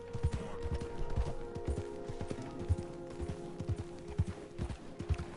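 A horse's hooves clip-clop in a steady trotting rhythm in the Red Dead Redemption video game, close and moderately loud over a low background hum.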